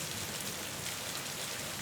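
Heavy rain pours steadily, a dense, loud, unbroken hiss with no gaps and no voices.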